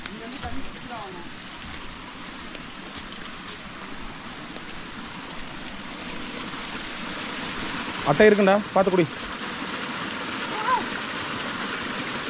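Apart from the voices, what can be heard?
small stream of water at a trekking water crossing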